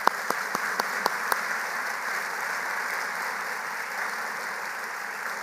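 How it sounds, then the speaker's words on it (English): A graduation ceremony audience applauding, a broad steady wash of many hands clapping from a large crowd, with a few sharp distinct claps at the very start. "Round of applause for you."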